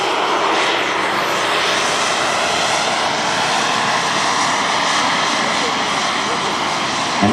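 A Carf Diablo model jet plane flies during a duel at a jet event, its turbine whine and rushing roar steady and loud throughout, broad and continuous with no pauses.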